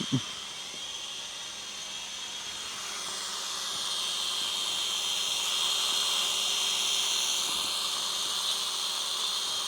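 A small drone flies nearby with a high, whining buzz of spinning propellers that holds steady and grows slightly louder, alone without talk.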